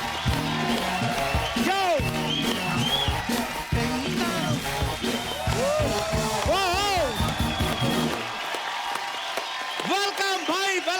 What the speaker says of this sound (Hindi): प्लीज वेलकम आपकी जोरदार तालियों के बीच मिस्टर सलमान खान एंड कटरीना कैफ।